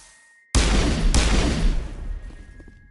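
Gunfire in the Mass Effect video game erupts suddenly as a loud, dense burst of rapid shots with a second blast just after, then fades into a rumbling tail.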